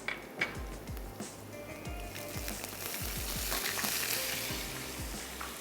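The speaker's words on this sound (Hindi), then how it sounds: "ताकि मसाले जले नहीं और हम उनको पकाना शुरू कर दें।" Spices and onions for a chana curry cook in a pan with a splash of water, giving a steady close sizzle with scattered low thumps and scraping of stirring, no voices.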